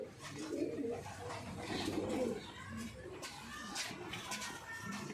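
Domestic pigeons in a fancier's loft coo softly and repeatedly, low throaty calls overlapping near the microphone, with occasional chirps and faint shuffling in the background.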